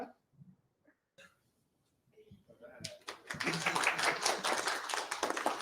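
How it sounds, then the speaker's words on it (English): Audience applause at a live stand-up comedy show in Vancouver, rising from near-silence into dense, sustained clapping from a crowd that fills the second half, with scattered voices early on. "That was the cheapest applause line I ever got."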